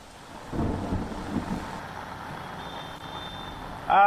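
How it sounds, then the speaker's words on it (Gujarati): A thunderstorm with heavy rain and wind on Anandnagar Road in Ahmedabad: a deep rolling thunder rumble early on, over a steady wash of rain, ending with a short high beep. "વીજળી છે, પવન છે અને વરસાદ છે, ત્રણે એક સાથ છે।"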